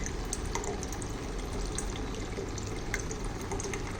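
Water streams steadily from the outlet of an RO water purifier, a constant broadband rushing and trickling that runs unbroken and fairly close.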